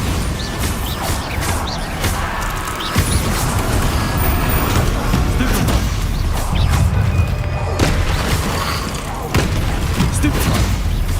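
Bombarda explosion spells from Hogwarts Legacy blast repeatedly in heavy, booming bursts over a dense, constant wash of game noise and rumble, with sharp crashes landing every few seconds.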